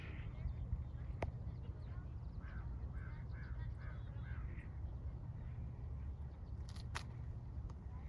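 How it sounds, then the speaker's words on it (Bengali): A few short bird calls sound in the middle of a quiet mountain trail on the Red Mountain, set against a steady low rumble of wind and ambient noise, with no talking. "দু একটা পাখির আওয়াজ ছাড়ার কোনো শব্দ নেই"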